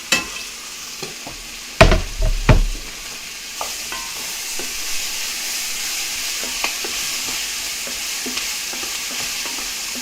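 Garlic hits a hot frying pan and sizzles steadily, with sharp scraping knocks of a utensil stirring early on, then a continuous soft frying hiss.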